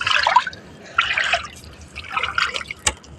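Water poured and splashing in short bursts while cleaning catfish, three uneven watery gushes and dribbles close by, with a sharp knock near the end.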